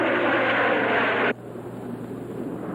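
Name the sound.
airplanes flying in film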